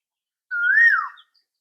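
Asian koel calling once in the background on Peng Chau Island, Hong Kong: a single clear rising-then-falling whistled note lasting under a second, with no talk.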